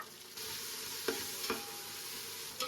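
Sliced onions frying in a pan for chicken pulao, with chopped coriander and mint stirred in, a steady close sizzle broken by a few sharp spoon scrapes.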